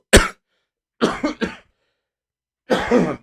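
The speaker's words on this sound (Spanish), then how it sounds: "Discúlpenme ustedes esta tos que no me deja" Three separate coughing bursts close up, a single cough, then a double cough, then a longer one, with silence between them.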